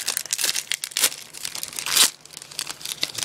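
Foil wrapper of a Yu-Gi-Oh Hidden Arsenal 6 card pack being torn open and crinkled up close, a dense run of sharp rips and crackles with no talking.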